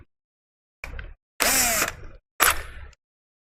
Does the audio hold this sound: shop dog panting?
no